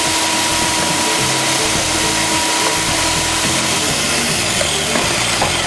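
A food processor's grater blade shreds cauliflower florets into rice-sized bits, producing a loud continuous motor roar with rough, churning grinding throughout.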